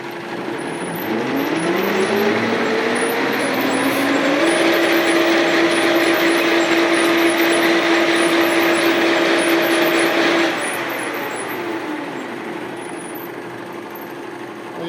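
A wood splitter or circular saw machine is switched on and spins up to a steady 600 rpm, its loud droning hum rising in pitch, holding level for several seconds, then easing off as it winds down.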